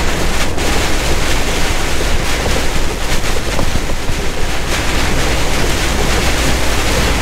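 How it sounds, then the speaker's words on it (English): A strong west crosswind roars steadily against a moving semi truck cab on the road, a loud constant rush with gusty buffeting and no talk. "Got a pretty strong wind coming out of the west to our right"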